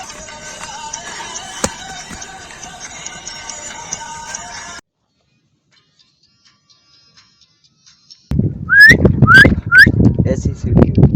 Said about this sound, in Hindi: ऐसी सीटी क्यों बजाता है सीटी? वो बजाता है बकरियों को लेकर जाने के लिए।